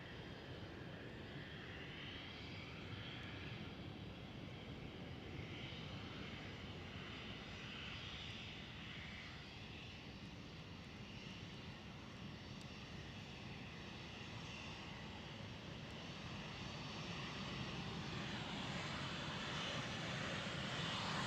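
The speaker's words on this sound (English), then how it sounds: "next one up for departure is the A350-1000 of Cathay Pacific" A Cathay Pacific Airbus A350-1000 departs Schiphol with a continuous roar of jet engines that builds slightly toward the end, heard at a distance without any voices.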